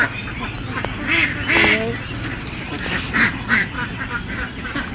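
Ducks kept on a small Filipino duck farm quack in scattered bursts close by, with a few louder honking calls rising over steady background chatter. People talk over the birds throughout.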